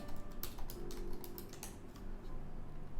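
Rapid, steady typing on a computer keyboard while a username is entered into a Django admin login, with dense clicking keystrokes running throughout at close range and no voices.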